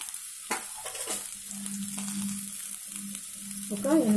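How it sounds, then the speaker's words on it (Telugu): Two onions hit hot oil in a heated pan, a steady close sizzle and frying with stirring scrapes throughout and no talking. "పాన్ వేడెక్కింది కదా, ఆయిల్ కూడా వేడెక్కింది. 2 ఆనియన్స్ తీసుకొని ఇలాగా"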